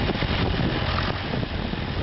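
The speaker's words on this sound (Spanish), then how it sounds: "acá está el tractor, un John Deere," A John Deere tractor engine strains while pulling a heavy implement, the tractor stuck in place; a steady, loud, close rumble with a dense, rough texture runs unbroken throughout, with no voices.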